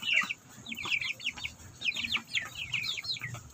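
Young chicks and small chickens cluck and peep in quick bursts, several birds close by, with short gaps between the calls.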